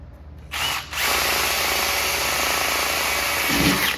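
A power drill bores a 1/8 inch pilot hole in metal with a loud, steady high whine. A short burst starts it, then comes a brief pause, then a sustained run of over three seconds.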